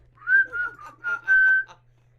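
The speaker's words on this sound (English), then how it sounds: "Who's whistling?" Someone whistles a short melodic tune in several bursts, a clear tone rising and falling, fairly close, with a steady low hum beneath and no talking.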